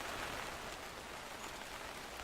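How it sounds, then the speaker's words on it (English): Steady rain hisses on a surface in the farming video game Farmer's Dynasty, an even, dense patter with no breaks and no voices. "Now the rain starts."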